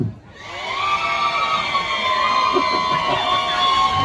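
A large crowd at a show in Chiang Mai, Thailand, screams and cheers continuously, a loud sustained roar with shrill voices rising above it, no single speaker.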